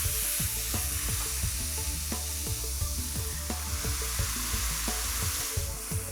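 Coconut milk poured into sizzling Thai red curry paste in a hot pan makes a loud, continuous close-up frying hiss, with stirring clatters and bubbling pops throughout.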